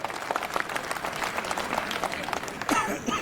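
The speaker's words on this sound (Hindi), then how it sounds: "इनके लिए आप जोरदार तालियां बजाओ" Applause from a crowd at a public gathering in Kundapura, India, a dense patter of clapping hands filling the space, with murmured voices mixed in.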